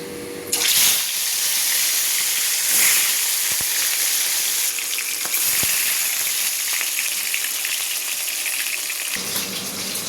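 Oil in a wok gives off a loud, steady, rushing sizzle close by that starts abruptly and holds for several seconds, with no voices.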